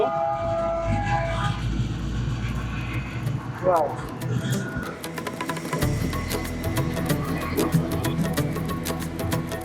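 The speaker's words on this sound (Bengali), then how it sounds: "এই ট্রেন ট্রেন চালু হয়ে গেছে বেশ শব্দ" A small children's park ride train in Sirajganj rumbles and rattles along steadily with clacking and a brief horn-like tone, while people talk nearby.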